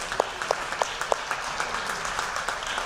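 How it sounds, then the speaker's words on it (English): Scattered audience applause at a fall sports athletic banquet, a few distinct claps standing out over a soft wash of clapping that stays fairly steady and moderate throughout. "Round of applause again, because she's the best."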